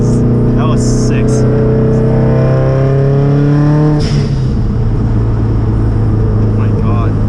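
A 450hp turbocharged car accelerates under boost, its engine note climbing steadily in pitch for about four seconds, then settling after a sudden shift, loud and close, with a voice talking over it.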